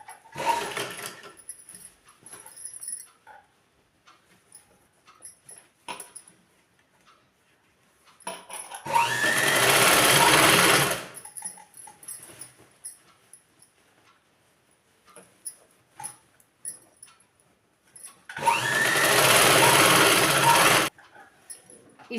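An electric sewing machine stitches the hem of a ladies' trouser in two loud, steady whirring runs of about two seconds each, separated by quiet handling of fabric and small clicks.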